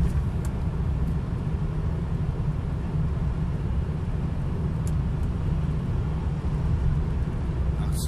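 A car in sixth gear runs fast down a steep, bony ramp, with a loud steady engine and road roar plus wind rush throughout, close and continuous with no breaks.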